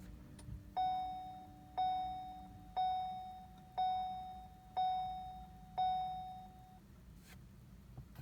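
A vehicle's warning chime sounding as the ignition key is turned to the on position, six evenly spaced clear ding tones about a second apart, each fading, then stopping, in a quiet interior.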